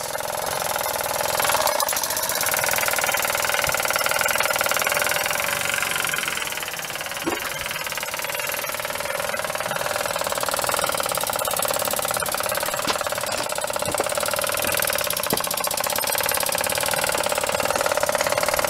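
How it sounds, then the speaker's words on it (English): A Mamod Roadster toy steam engine chugs and hisses continuously at close range, a steady mechanical whirr with a rhythmic knock throughout, no talking. "this is the Mamod Roadster steam engine"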